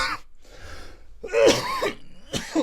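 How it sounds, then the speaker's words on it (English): Several harsh coughs in a row, close and loud, with a throat-clearing rasp between bursts; no talking. "I was coughing trying to get this out."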